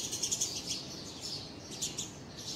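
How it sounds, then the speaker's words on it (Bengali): Birds chirp and tweet outside a balcony in the morning, a steady run of small high calls with no one talking. "তখন পাখির কিচিরমিচির শব্দ আমার কাছে খুব ভালো লাগে।"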